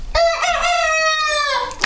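A silkie rooster crows once nearby, a long drawn-out call rising and holding steady before tailing off, loud and alone.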